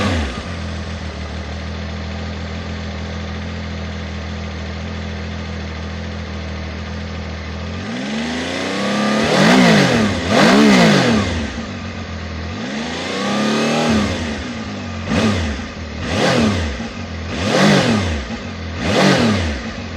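A three-cylinder Zontes 703F motorcycle engine idles steadily, then revs hard in a series of sharp throttle blips, each rising and falling, close and loud.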